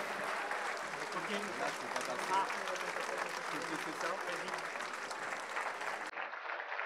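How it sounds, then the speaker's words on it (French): An audience applauds at the opening ceremony of the 2019 world aerobatics championship, a dense, steady clapping that holds for several seconds before cutting off abruptly near the end. "je vous demande, avant qu'ils quittent la scène d'ici quelques instants, de réapplaudir votre équipe de France"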